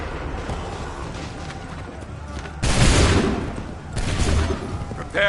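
Musket volleys crash out in Assassin's Creed 3, a dense, rolling fusillade of many guns firing together, loud and close, with two big volleys separated by noisy battlefield din and shouted orders.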